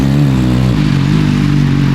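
A Yamaha R6 race motorcycle fitted with an aftermarket exhaust runs loud and close, its deep engine drone shifting pitch briefly before holding a steady, throaty rev.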